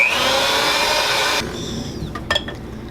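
An electric mixer whirs steadily while blending spices, minced onion and Worcestershire sauce for a holiday cheese ball, then drops to a lower hum with a few brief knocks of the beaters toward the end.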